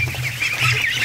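Crossbreed ducks in a duck house give a steady, close, loud stretch of honking quacks with no talking.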